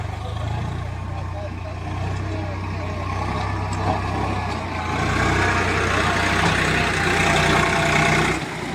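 A tractor engine drones and strains in a carrot field as its wheels slip, a loud, steady mechanical rumble that rises toward the end, with people talking over it.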